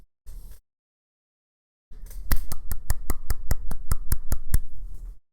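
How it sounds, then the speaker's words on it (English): Excited hand claps ring out in a quick, even burst of about a dozen sharp, close smacks, preceded by one short isolated sound and a pause. "Excited clap."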